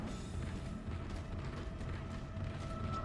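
A long elevator ride in the video game Dead Space, a continuous low mechanical rumble with faint creaks and grinding that stays steady from start to finish.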